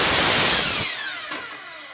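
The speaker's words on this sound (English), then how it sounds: "Now this is a radial miter saw" A radial miter saw finishing a cut through wood, a loud close whine and rasp that cuts off abruptly, leaving the blade's fading whir as it spins down, with no voice.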